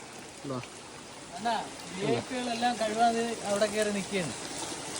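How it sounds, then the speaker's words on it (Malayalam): Steady rain falls near a house in a forest, a constant hiss under a person talking throughout. "ഇന്നത്തെ ദിവസം മുഴുവൻ മഴ"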